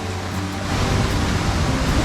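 Big waterfall swollen after heavy rain, a dense, loud, continuous roar of rushing water, steady and close.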